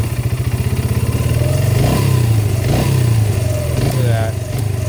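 A Yamaha Breeze 125 ATV engine runs loud and close with a steady, chugging mid-pitched drone, rising slightly as if lightly revved before easing back.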